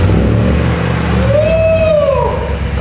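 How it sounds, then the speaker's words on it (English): A supercharged truck engine runs close and loud with a deep, heavy rumble, then revs up as a rising supercharger-like whine climbs and sustains before easing off, with no talking. "Sounds like a big buff truck with a supercharger."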